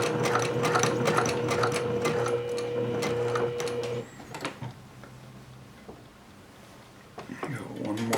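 A sewing machine stitches a courier bag, its needle ticking in a fast steady rhythm up close before slowing and stopping, followed by quieter handling sounds while a person speaks.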